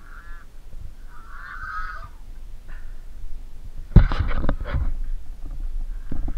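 Geese honk in short bursts nearby at a campsite in Malico, Pangasinan, then a louder clattering of honks and rustling follows, with no speech.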